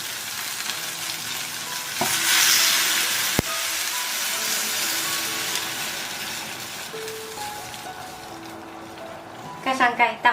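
Shrimp heads and ginger fry in hot oil as boiling water is poured in, a loud surge of sizzling and bubbling that settles into steady frying hiss with a sharp clink and a short burst of voice near the end.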